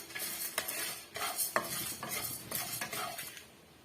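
Spices and curry leaves dry-roast in a pan for tomato rasam, with repeated scraping strokes of a spoon against the pan and a faint crackle between them, close and without speech.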